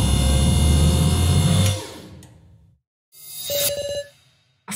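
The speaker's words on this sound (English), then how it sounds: "Phone booth came from the floor." A ring-up box phone booth rising from the floor in the video game Your Turn To Die, a loud mechanical whirring rumble that fades, followed by a shorter ringing, buzzing burst.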